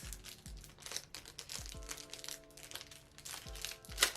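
A card package being opened makes close crinkling and tearing wrapper sounds, repeated rustling bursts with low thumps and a sharp crackle near the end, with no talking.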